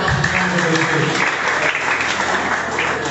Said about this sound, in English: Please may you clap for us.